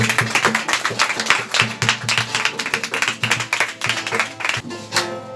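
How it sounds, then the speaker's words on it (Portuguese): A church congregation claps for Jesus at a worship service, sharp irregular hand claps from many people close by, quick and uneven and building in bursts over several seconds. "dá uma salva de palmas para Jesus"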